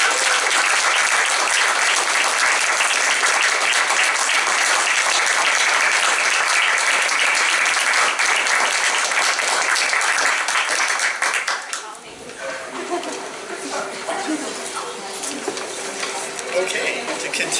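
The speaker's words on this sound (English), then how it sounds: "now we can clap" Audience applause at a school district board meeting after a tenure vote, steady dense clapping for about twelve seconds before quickly fading into quieter room noise and murmuring.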